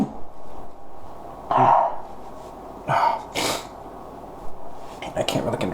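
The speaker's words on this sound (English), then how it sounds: "I just sneeze too hard." A person sneezes forcefully, with a few loud stifled bursts into a rag separated by breaths and sniffs, close to the microphone.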